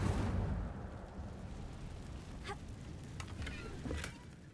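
Incendio fire spell in Hogwarts Legacy bursts out with a loud whoosh, then settles into a crackling, sizzling roar of flames with a few sharp pops.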